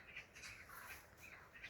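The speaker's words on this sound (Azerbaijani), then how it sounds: "2 dənə də qarğa bir-birinə girişdilər" Crows squawk in a garden as two of them fight, a run of harsh, rapid calls repeating close together, faint and somewhat distant.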